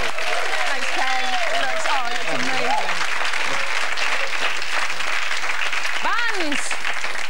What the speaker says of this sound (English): I think an enormous round of applause for the most infamous chef in the